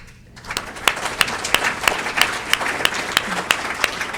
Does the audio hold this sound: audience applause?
yes